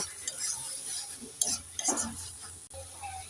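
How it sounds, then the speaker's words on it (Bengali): Broad beans being stirred in a pan with a spoon or spatula as the remaining water cooks off, giving a steady soft sizzle with a few scraping clacks of utensil against metal, close up, no talking. "এবার আমি নেড়ে চেড়ে সিমের বাকি জলটাকে একদম শুকিয়ে নেব"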